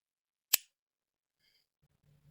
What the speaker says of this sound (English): so I am going to trim these a bit.